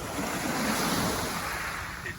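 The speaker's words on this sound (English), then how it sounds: "The waves crashing that you hear, probably the most noise that you hear in these rooms." Ocean surf rolls and crashes steadily near beachfront rooms in Oslob, Cebu, Philippines, a broad wash of waves mixed with some wind noise, moderately loud and without talk.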